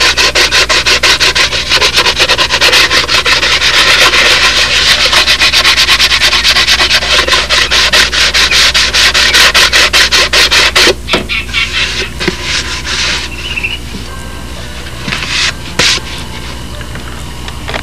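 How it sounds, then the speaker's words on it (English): Steady, fast back-and-forth rasping of a flat sanding bar, rough side up, tapering an edge on an aircraft vertical stabilizer, loud and close, slowing into scattered strokes toward the end. "Take the big sanding bar, which is perfectly flat with the rough side up"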